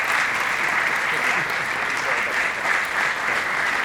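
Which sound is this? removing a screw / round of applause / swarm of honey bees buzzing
round of applause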